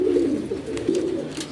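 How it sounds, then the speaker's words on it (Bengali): A pair of Maxi Racer pigeons with two squabs coo in a steady low repeating drone, close and fairly loud, with no talk over it. "এক জোড়া মাক্সি রেসা কবুতর, কিন্তু সাথে দুইটা বাচ্চা আছে"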